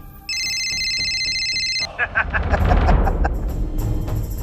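Telephone ringing with a loud electronic trill that repeats in short bursts for about two seconds, then cuts off as louder rumbling sound and voices take over.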